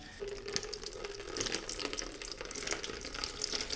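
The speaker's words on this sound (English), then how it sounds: "I washed this tank out with the hose" Running water from a hose rinsing out a Honda Interceptor motorcycle fuel tank, a steady close splashing and hissing flow that continues unbroken for a few seconds.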